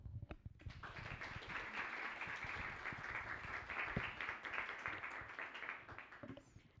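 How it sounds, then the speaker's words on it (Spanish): An audience at a Spanish-language event applauds steadily for several seconds, its clapping fairly faint and distant, then fading near the end. "Antes de darle la palabra a Dan, quisiera pedir de nuevo un aplauso para Casa Centroamérica"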